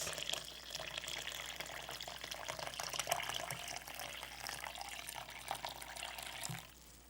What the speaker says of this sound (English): So I'm going to put about 2 cups of hot water in here.